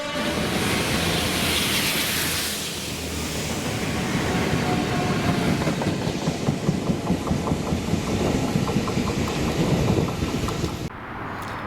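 Freight train hauled by Class 66 diesel locomotives 66111 and 66130 on the Polmont up passenger loop, a loud steady engine roar and rumbling wagons rolling past close by, continuous until an abrupt drop near the end.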